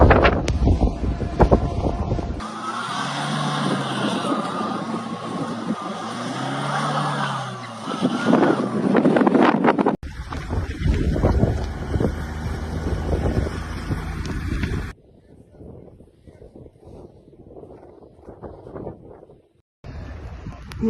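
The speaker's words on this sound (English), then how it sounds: "A severe snowstorm with wind gusts of 75 miles per hour hit Vladivostok, Russia" A severe snowstorm in Vladivostok, Russia, with gusts up to 75 miles per hour, roars in loud buffeting bursts, mixed with passing vehicle noise, broken by abrupt cuts between quieter and louder stretches.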